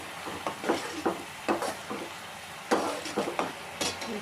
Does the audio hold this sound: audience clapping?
no